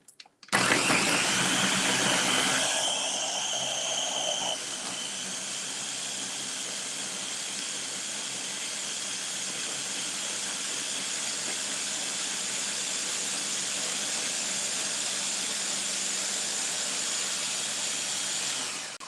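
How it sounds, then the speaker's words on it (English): A loud, steady motorized whir of a blender mixing blueberry pancake batter, starting abruptly and holding a constant roar with a slight pitch drop early on. "All right, so let's blend it up."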